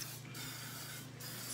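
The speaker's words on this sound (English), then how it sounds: "I take the muffin tin and I go ahead and spray" Cooking spray hissing into a muffin tin, two short bursts of steady aerosol spray close by, with a low hum underneath and no talking.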